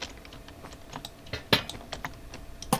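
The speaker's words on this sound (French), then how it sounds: "Je sais pas si tu l'entends mon nouveau clavier parce qu'il est vachement plus silencieux que l'ancien." Soft, quiet keys on a new low-noise computer keyboard tap in an irregular run of light clicks, close and isolated, with a few slightly sharper strokes standing out.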